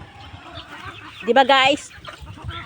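Chickens cluck in a short, loud burst of squawking close by as they are fed, with someone talking casually around it.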